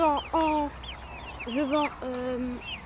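A rooster clucks in short, close calls, several in a row with brief pauses, some notes wavering.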